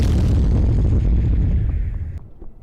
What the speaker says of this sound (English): The explosions look good though.